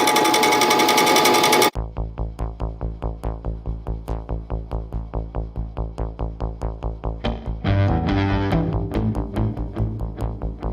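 A machine takes a ten-thousandths cut on a part from a 1900s drill press, producing a loud, evenly pulsing mechanical chug that turns harsher and more grinding near the end.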